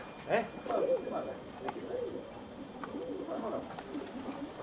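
Dozens of pigeons cooing inside a Greek loft housing about 44 birds, a dense overlapping chorus of low, throaty coos with a few sharper calls, close and steady throughout.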